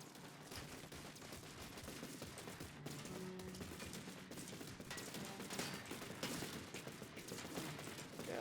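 Dense, continuous gunfire from a TerraTech multiplayer battle, rapid bursts layered into a steady fusillade with mechanical clatter, loud and unbroken for the whole stretch with no talk.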